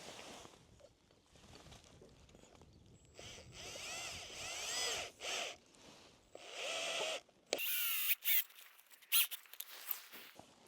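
A power drill driving Tek head screws while an overhead cable guide is installed, several short whirring bursts that rise and stop, with pauses and light rattles between them.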